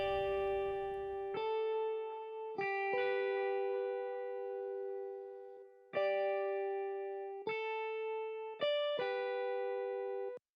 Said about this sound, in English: To top it off, I just added a delay going through a reverb to give both guitars a bit more